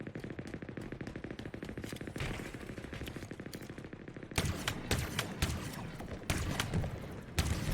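Rapid automatic gunfire from Halo Infinite in a team battle match, dense bursts of shots at close range, growing louder and sharper in the second half, with no talk over it.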